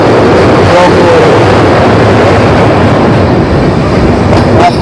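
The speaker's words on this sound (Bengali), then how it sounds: "ভারতবর্ষে একটা অন্যতম শ্রেষ্ঠ ট্রেন জার্নি কিন্তু এটা" The Vistadome coach of a Dooars tourist special train from New Jalpaiguri to Alipurduar rolls along with a loud, steady rumble and rushing noise, faint rail clatter underneath, recorded from inside the moving carriage.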